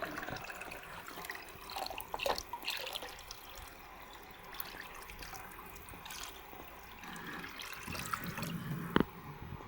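Water poured into a guppy breeding container, giving a steady trickling and splashing flow with a few small drips, close by and moderately quiet, with no talking.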